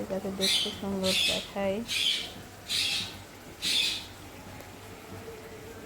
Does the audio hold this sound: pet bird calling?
yes